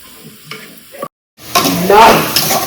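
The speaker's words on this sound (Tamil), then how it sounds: "இப்ப நம்ம காளான போட்டுடலாமா?" Mushrooms hitting a hot pan and frying, a brief clatter, a moment of quiet, then a loud rising sizzle with stirring close by.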